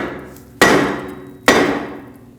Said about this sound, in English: use a hammer, tap right between the lug studs, and that should break it free from the hub